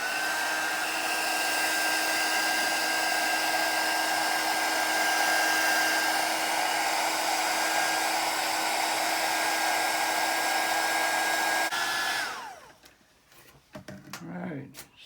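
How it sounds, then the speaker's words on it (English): A Radio Shack heat gun roars with a steady, loud whir and constant high whine, drying a motorcycle fuse relay junction box for about twelve seconds before cutting off and winding down, leaving scattered faint handling noises. "This is a Radio Shack heat gun,"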